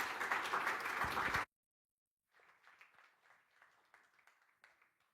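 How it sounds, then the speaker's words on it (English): An audience at a summit plenary claps for a speaker, a burst of fairly loud applause that cuts off abruptly, followed after a pause by softer, scattered clapping. "Let's welcome her with a round of applause."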